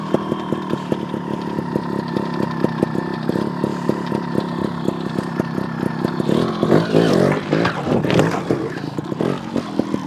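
A GasGas TXT 300 trials motorcycle works a backyard obstacle course. Its two-stroke engine pops and blips in rapid, uneven bursts, then surges louder as the throttle opens, heard close throughout.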